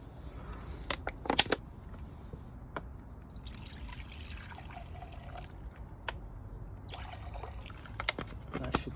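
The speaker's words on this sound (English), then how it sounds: "let's try it with some fuel, see how it's pumping the fuel through." A new fuel pump on a Kawasaki Ninja ZX-9R under restoration pushes fuel through, with close, irregular drips and trickles of liquid over a low steady hum and a few sharp splashes.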